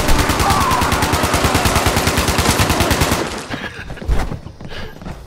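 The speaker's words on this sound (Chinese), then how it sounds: "对，这才是点五零的声音，没有错。" A .50 caliber machine gun fires in the video game Fallout 76, a loud sustained burst of rapid, evenly spaced shots for about three seconds, followed by a few scattered distant reports and echoes.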